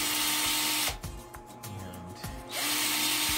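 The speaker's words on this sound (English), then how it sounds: "Take our screws out." Screws come out of a mini electric guitar, with a loud, steady power-tool whir that cuts out for about a second and a half of short clicks and a brief spin before running again.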